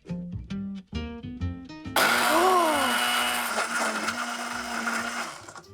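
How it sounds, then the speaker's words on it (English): A tiny blender blending cucumber whirs to life after some clunking and knocking, then runs loud and steady with a high whine for several seconds. "I'm actually just gonna throw it in a blender really fast."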